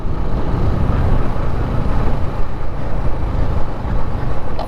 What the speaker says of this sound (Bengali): এসব সুরকিতে পড়লে মনে হয় যে পিছনে চাকাটা জানি কেমন একটু বাড়ি দেয়